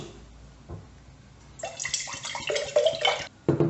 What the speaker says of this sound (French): on le met à l'intérieur de notre verre et on rajoute évidemment de l'eau fraîche